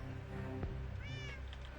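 A Minecraft cat meows once, clear and close, a short rising-falling call over steady game ambience.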